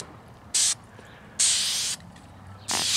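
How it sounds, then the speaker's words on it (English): Three short hisses from a spray can applying a light coat of paint to a Honda Dio scooter panel, each burst a fraction of a second to half a second long, separated by quiet pauses. "So you spray it on real light like that."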